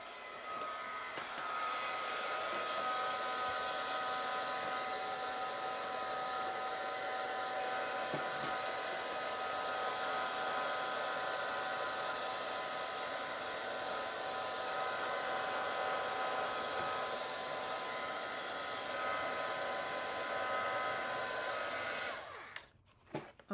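A hair dryer roars steadily and close for over twenty seconds, drying a gouache and watercolor painting in an art studio, then switches off abruptly near the end.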